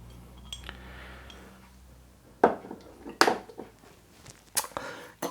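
Soy sauce, sugar and sesame oil being stirred in a bowl for salt and chilli beef, quiet rubbing at first followed by several sharp clinks of utensil against the bowl.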